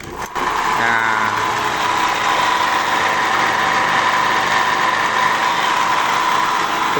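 Mitsubishi L300 diesel engine idling steadily up close, a continuous loud rumble with a constant hum that keeps on without break after a brief start at the opening.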